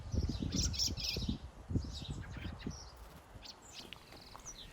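Fledgling birds chirping outdoors in the morning, a few faint high chirps scattered over soft low rustling and movement nearby.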